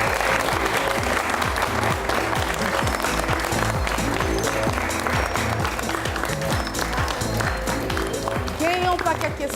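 An audience at a stage show bursting into sustained loud applause, dense clapping filling the whole stretch, with voices mixed in and some cheering near the end.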